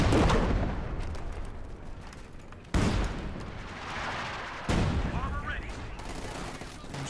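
An artillery barrage pounds away in Company of Heroes 2, with loud shell impacts hitting sharply twice amid continuous rumbling fire and a commentator speaking over the battle.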